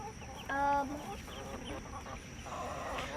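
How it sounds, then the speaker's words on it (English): Backyard chickens pecking at scratch feed, giving short clucks and a brief bright squawk up close over a quiet outdoor hum. "These are my big chickens, eating their scratch as always, healthy as always."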